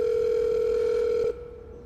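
An app phone call gives a loud, steady telephone dial tone that holds a single pitch, then cuts off abruptly, leaving only a faint hum behind.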